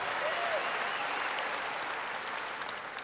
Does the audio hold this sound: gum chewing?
no